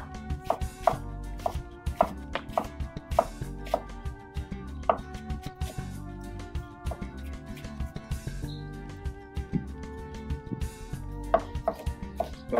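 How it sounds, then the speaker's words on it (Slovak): A knife chops garlic and vegetables very finely on a board in quick, steady taps that are close and crisp, with a few short pauses and brief bursts of faster strokes. No voices are heard. "spomínaný cesnačík, spomená to zeleninku si nakrájame extra najemno"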